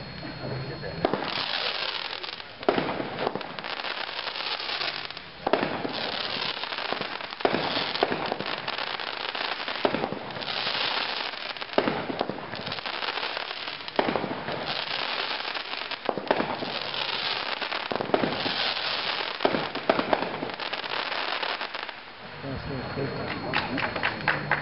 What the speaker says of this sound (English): Next up, 200 gram cake, instant replay, 12 shots.